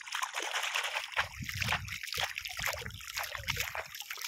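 River water in a Konkan creek at high tide, flowing and sloshing nearby in uneven surges that rise and fall over a few seconds, with no one speaking.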